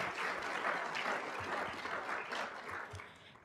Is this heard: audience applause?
yes